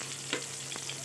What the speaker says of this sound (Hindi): इसे भूरा होने तक तलनी है